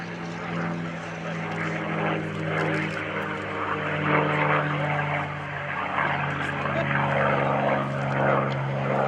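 A P-51D Mustang propeller fighter flies past at a military open house air show, its engine drone steady and loud throughout with a constant low hum, crowd and wind noise mixed in.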